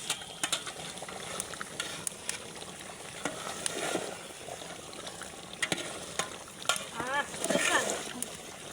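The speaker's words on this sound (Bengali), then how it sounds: "এদিকে কিন্তু ছোটো বোন নাড়াচাড়া করে নিচ্ছে।" Beef kosha curry stirred in a pot, with sizzling frying and repeated scraping and clattering strokes against the pot, loud bursts toward the end, with voices faintly present in the background.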